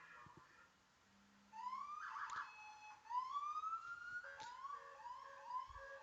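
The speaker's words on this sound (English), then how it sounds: "the police car, the fire truck going by the window" Wailing police car and fire truck sirens passing by outside a window, rising and falling sweeps heard indoors at moderate distance, layered and continuous for several seconds.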